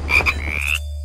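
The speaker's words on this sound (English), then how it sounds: "It's a frog." A frog croaks in a short, loud, close burst of rasping calls lasting under a second, set against a low steady hum in a children's jungle song recording.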